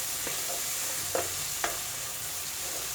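Tomato masala for a Kerala-style egg curry sizzles softly in oil, a steady low fry with a few sharp scraping stirs of a spoon against the pan, no voices over it.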